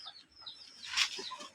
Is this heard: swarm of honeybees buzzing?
no